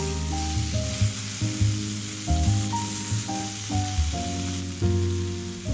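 Small, thick tournedos steaks sear on their sides in olive oil in a hot pan, giving a soft, steady sizzle that sits beneath louder background music.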